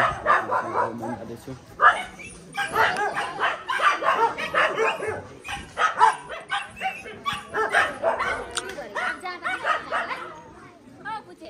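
Dogs at a busy hilltop temple bark, yip and whimper repeatedly at close range, mixed with people talking throughout.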